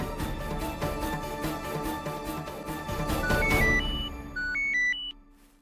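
A phone ringtone plays a repeating electronic melody over busy background music, then a few clear beeping tones sound alone before fading out.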